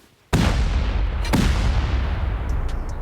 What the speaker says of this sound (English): Kind of sounds like a bunch of turrets above me